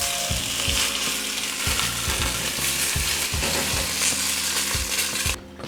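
Short ribs sear in a scorching hot pan with a loud, continuous sizzle, while repeated scraping and knocking of a utensil against the pan cuts through at a steady rhythm.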